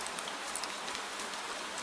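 Gentle rain patters softly and evenly through a quiet night, a continuous fine hiss of drops with no voices.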